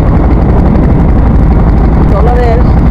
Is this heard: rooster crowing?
no